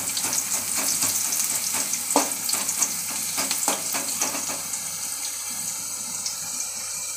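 Steady crackling sizzle of elephant foot yam pieces deep frying in hot oil, continuous and close, with occasional pops and a faint stir.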